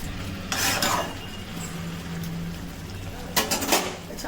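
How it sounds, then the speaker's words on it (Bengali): Mutton is sautéed and stirred in a pan for a Bengali Sunday mutton curry. Two short bursts of spoon-on-pan scraping stand out over a soft, steady background hiss. "ভালো করে একটু কষে নেওয়া হচ্ছে"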